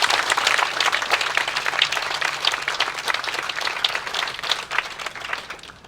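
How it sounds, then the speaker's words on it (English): A crowd at an Eighth of May Emancipation Celebration gives teachers a round of applause, close and lively clapping that builds quickly and stays strong, then begins tapering toward the end. "round of applause right now"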